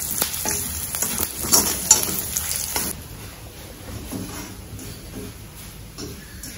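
Garlic and a small piece of asafoetida frying in hot oil in a pan, a close continuous crackling sizzle with stirring scrapes, louder at first and then settling into a softer steady fry.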